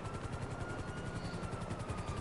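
A police helicopter in GTA Online during a heist, its rotor a steady rhythmic low thudding chop that stays constant and fairly close throughout, with no talking.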